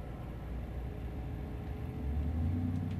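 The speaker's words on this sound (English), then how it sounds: "loud truck going by" A loud truck drives past, a steady low rumble that swells toward the end, with no talking.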